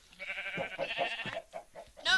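Several short sheep bleats from Minecraft come in quick succession, close and clear, with brief gaps between the calls.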